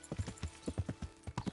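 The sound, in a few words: horse hooves clip-clopping, from video game Kingdom Come: Deliverance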